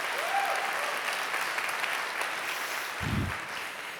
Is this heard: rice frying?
no